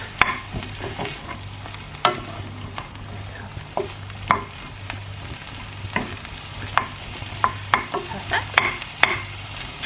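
Food is stirred in a Berghoff pan without oil, with repeated scraping strokes and light sizzling, over a low steady hum, no talking.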